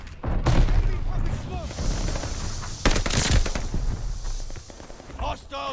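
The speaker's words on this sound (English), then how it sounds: "Incoming grenade." Grenade blasts and gunfire in the Call of Duty Vanguard video game come as sharp booms and crackling bursts, one heavy explosion near the middle, amid continuous game noise with voices talking.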